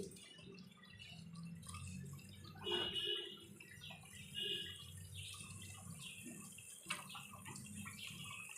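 Water from rinsing a bowl of ground spice poured into a cooking pot, a quiet trickle and splash that swells twice and then settles into a faint, steady bubbling.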